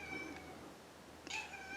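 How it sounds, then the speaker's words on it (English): A house cat meows softly twice, a short faint call followed by a brighter one, close by against a steady low room hum with no one talking. "basically a talk video, apparently with Gus the cat joining in."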